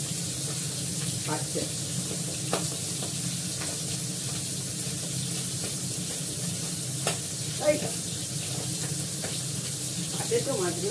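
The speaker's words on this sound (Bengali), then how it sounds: "ফোড়নে দেবো জিরে" Cumin seeds sizzle in hot oil for tempering, a steady hissing fry under occasional stirring and kitchen clatter, with a voice speaking briefly.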